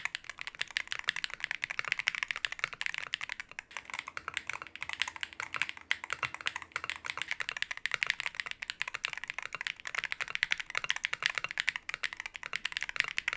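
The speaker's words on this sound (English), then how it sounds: "So here's a quick sound test." Fast, continuous typing on a gaming mechanical keyboard with PCB and case foam, crisp close key clacks in a dense irregular rhythm with no talking.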